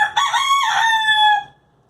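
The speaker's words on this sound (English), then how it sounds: "That's my rooster. He's in my room." A rooster crows once, loud and close, a long bright call that rises and then trails off into silence.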